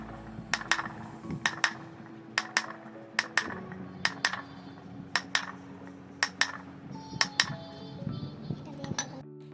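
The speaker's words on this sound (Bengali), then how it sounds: "এই যে ছোট ছোট দাগ কাটছি এতেই ফিরবে পাটার প্রাণ" A chisel is hammered into a stone grinding slab (pata) to cut small notches, giving sharp metallic clinks, often in quick pairs, about fifteen strikes at an uneven rhythm, close and crisp over a faint hum with soft speech at times.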